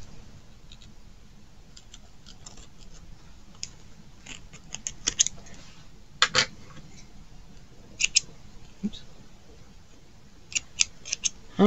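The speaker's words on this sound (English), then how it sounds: "I'm going to go ahead and cut a tail, leaving a little bit of a tail" Scissors snipping through a tail of white tulle yarn during Tunisian crochet of a dish scrubby, a few faint, sharp, scattered clicks and snips over quiet background, without talk.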